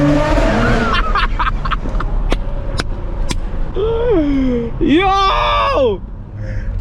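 A stage 2 Acura TLX Type S with catless Lambda downpipes roars loudly as it accelerates, throwing sharp gunshot-like pops and crackles before its engine note climbs in rising gear pulls near a bridge.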